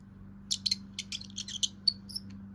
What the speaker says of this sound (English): A mouse goes.